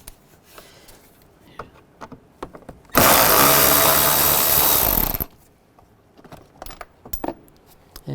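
A power driver with a T30 socket removes screws from the side of a 2005–2010 Volkswagen Jetta during radiator fan replacement, one loud continuous whirring burst of about two seconds between quieter clinks and handling noises.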